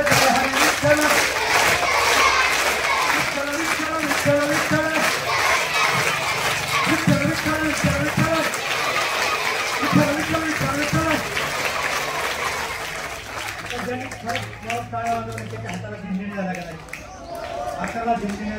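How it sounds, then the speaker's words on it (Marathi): A crowd claps loudly and steadily, keeping rhythm with a man's devotional chanting to Vitthal at a public talk. The dense patter runs throughout beneath his voice and thins out near the end. "जोरात टाळ्या वाजवा"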